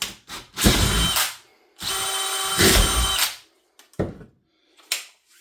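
A handheld power drill bores into PVC in short bursts, two longer whirring runs followed by a few quick blips of the trigger, close and loud with silence between.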